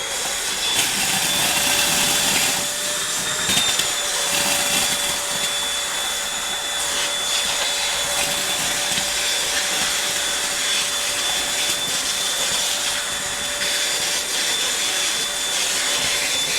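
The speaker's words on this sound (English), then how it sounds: "Now just turn it on and vacuum." A Eureka 3-in-1 handheld vacuum cleaner runs steadily and loudly close by, a constant high whine with broadband airflow rush and no pauses or talk.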